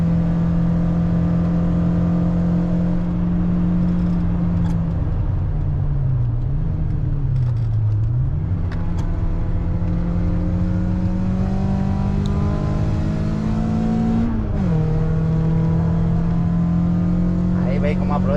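A Volkswagen Golf 2 GTI 16v from the 1980s, weighing about 1000 kilos with 150 horsepower, drones loudly at steady high revs on a track, its engine note dipping and rising with gear changes under constant wind and road rumble.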